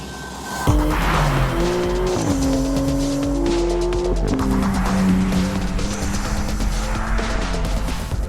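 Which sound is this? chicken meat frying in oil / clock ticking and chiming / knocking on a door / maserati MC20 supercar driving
maserati MC20 supercar driving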